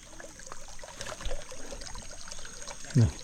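A stream trickles beside a forest hiking trail near durian trees in Siburan, Sarawak: a soft, steady, low-level burble with a brief louder splash near the end.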